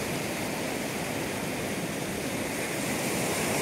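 Sea waves at Wayangani Beach in Ratnagiri, a constant broadband roar of surf close by, unbroken and fairly loud with no voices over it.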